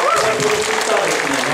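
Applause from the crowd at an amateur pro-wrestling show in Shiraishi greets a dropkick, a steady burst of clapping with a commentator talking over it.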